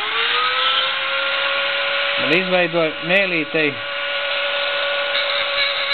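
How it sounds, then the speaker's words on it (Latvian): A small electric grinder whines steadily while shaping a metal spoon fishing lure, its pitch dipping briefly under load as it bites the workpiece, with someone speaking over it midway. "es ņemu talkā slīpmašīnīti."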